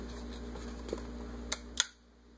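Draftmark beer tap appliance: a couple of small clicks and a sharper snap as it shuts, then the steady background hum stops, quiet and close.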